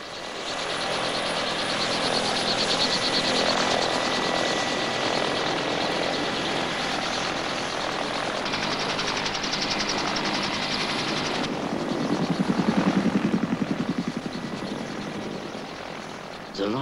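Helicopters flying during a 1969 expedition across the Arctic make a steady, loud rotor thrum and engine whine that runs for the whole stretch, swelling slightly toward the end with no talk.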